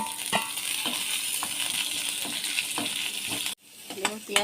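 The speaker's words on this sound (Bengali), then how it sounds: "রসুন কুচি দেবো। এটা একটু ভাজা ভাজা করে নিয়ে তারপর এখানে" Chopped garlic frying in hot oil in a pan, a steady crackling sizzle with a few spatula clicks, cut off abruptly before a brief return of stirring and scraping.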